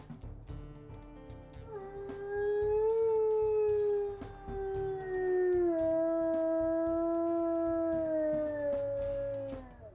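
A female wolf in the video game WolfQuest gives a long, sustained howl that rises and then slowly slides lower, followed by a second, slightly lower howl, loud and clear over faint background hum.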